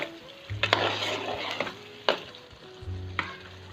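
Chicken karahi being stirred in a pan after cream is added, sizzling and frying steadily while a spoon scrapes and clinks against the metal in a few sharp knocks, close up with no voices.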